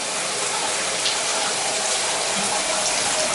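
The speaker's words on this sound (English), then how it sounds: "There's the shower. We have good water pressure there." Shower running at good water pressure in a bathroom, a steady broadband hiss of spraying water that stays loud and even throughout, with no voices.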